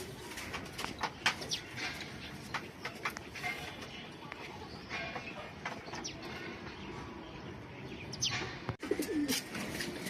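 Racing pigeons coo and murmur continuously in a busy loft, with scattered chirps and rustling throughout.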